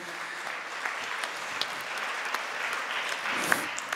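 Audience at a presentation on assistive technology applauding to welcome a guest, a steady spread of many hands clapping at moderate distance, fairly quiet, with a few sharper claps standing out.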